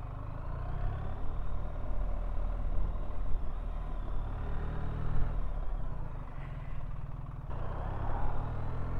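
A 2024 BMW R1300GS motorcycle with automatic shift rides along, a steady engine drone and road rumble running throughout, with a brief change in tone where it shifts from first to second gear.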